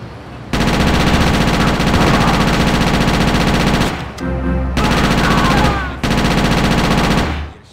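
Shotgun and other gunfire in the GTA Chinatown Wars video game, sustained loud rapid blasts in long bursts broken by two short gaps.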